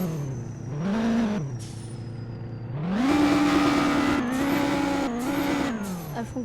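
Car driven in a roleplay video game, its engine revving up and down in repeated surges with whining gear shifts, loud and close, with no talk over it.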